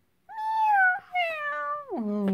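A voice imitates a cat's meow, producing one drawn-out, close, clear meow with a falling pitch at the end. It sounds alone, with no other talk around it.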